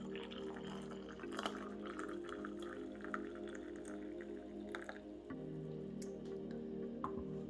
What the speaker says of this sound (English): So let's pour the salabat into the cup.